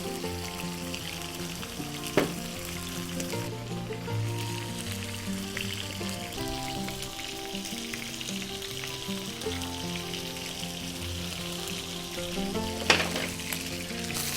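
Steak frying in butter in a hot pan for a steak sandwich, a steady close sizzle and crackle throughout with a couple of brief sharp clinks, no talking.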